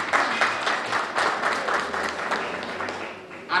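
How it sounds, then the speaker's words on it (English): Audience applause at a formal gathering, a full, steady patter of many hands clapping at moderate loudness that rises slightly again at the very end. "Let's give him a round of applause,"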